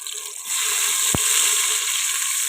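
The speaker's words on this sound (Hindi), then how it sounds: "ऑयल के अंदर हम टमाटर का ये पेस्ट जो हमने बनाया है ये डालेंगे।" Tomato paste hits a cup of hot oil for dum ka qeema, breaking into a loud, steady sizzle that starts abruptly and holds bright and close with a brief clink.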